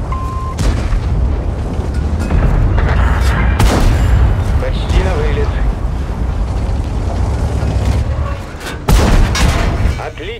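Repeated loud booming T-62A tank cannon blasts in World of Tanks, several heavy shots in quick succession, with sharp impacts and rumbling echoes over a busy battle mix.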